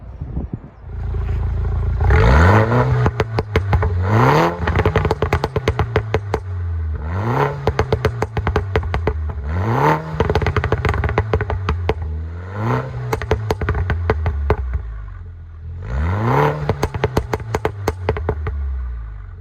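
A Mini F56 with a Remus Valvetronic sports exhaust revs hard again and again, rising and falling in repeated bursts with a loud, crackling exhaust note.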